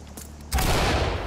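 A flashbang grenade detonating in Ready or Not, one abrupt loud blast after a brief quiet lead-in, leaving a dense roaring wash that lingers to the end.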